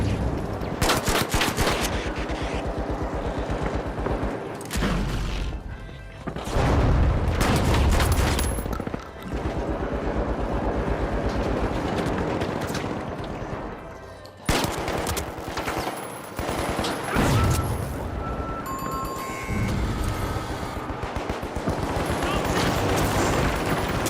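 An automated turret in the video game The Finals fires sustained, rapid bursts, with loud, close rattling volleys broken by short pauses and one brief lull midway.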